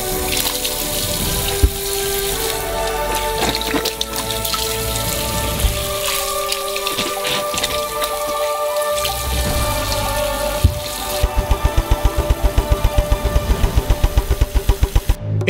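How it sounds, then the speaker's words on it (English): Oranges being washed in a sink filled with water: continuous splashing and sloshing, with a quick run of rhythmic watery pulses near the end. No voices. "And each orange needs to be thoroughly washed."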